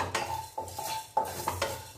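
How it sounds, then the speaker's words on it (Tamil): Coriander seeds and spices are dry roasted and stirred in a kadai, heard as a few distinct metallic scrapes and ringing clinks of the ladle against the pan, close and moderately quiet. "ஒரு கடாய் வச்சுருக்கீங்க, தனியா சேர்த்துக்கலாம், எல்லா பொருளையும் நல்லா வறுத்து சேர்த்துக்கோங்க."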